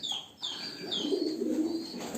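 Hungarian bango pigeons coo softly and low beside a squab in a loft, with a steady murmuring coo running through most of the moment and faint higher chirps above it.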